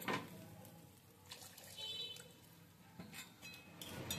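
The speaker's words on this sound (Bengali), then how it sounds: "এবার আমি দিয়ে দিচ্ছি জল। আর একটু জল লাগবে।" Water is poured from a container into a cooking pot of egg curry with taro, arriving in a few short splashy bursts with quieter gaps between, fairly close and moderately soft, with no talking.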